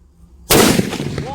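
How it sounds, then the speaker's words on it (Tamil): A quarter-kilo Joker paper bomb firecracker from Sivakasi goes off in one sudden, loud, close bang after near silence, followed by a rough, crackling rumble that fades slowly. "இந்த 1/4 கிலோ பேப்பர் பாம் வைக்கலாம்,"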